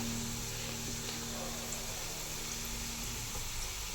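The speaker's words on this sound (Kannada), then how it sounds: "ಈ ಥರ ಹಾಕಿ ಫ್ರೈ ಮಾಡೋದೀಗ" Karchikai dumplings deep-fry in hot oil, producing a continuous dense sizzle that holds at an even level throughout, close up, with a faint background hum.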